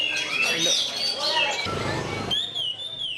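Young songbirds trill and chirp in high, shifting whistles at a bird-singing contest in Yogyakarta, several birds overlapping near and loud over crowd murmur, with one clear sustained call ringing out at the end.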